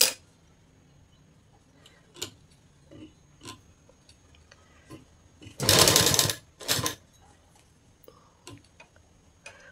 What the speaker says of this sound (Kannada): ಈ ರೀತಿ ಸೆಂಟ್ರ್ ಮಾಡಿಕೊಂಡು ನಾನು ಸ್ಟಿಚ್ ಮಾಡ್ಕೊಳ್ತಾ ಇದ್ದೀನಿ